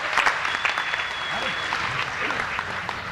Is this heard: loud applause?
yes